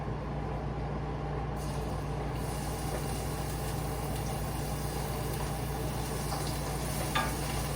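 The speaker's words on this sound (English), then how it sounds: "I'm gonna put the onions in there." Onions sizzle steadily in heated oil in a pan, a faint continuous hiss with a low background hum and no voices.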